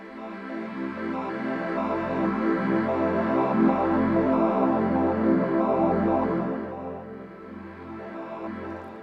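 Casio CT-X3000/CT-X5000 keyboard playing its sample-and-hold synth tone: a steady, buzzy pulsing pattern of rapidly stepping notes, loud and continuous, easing slightly near the end, with no voices.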